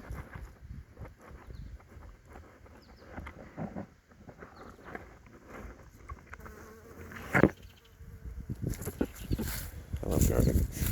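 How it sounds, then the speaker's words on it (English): A bee buzzes around a home vegetable garden beside raspberry and asparagus plants, its close, wavering drone rising and fading in intermittent bursts over soft outdoor rustling. "it is a bee."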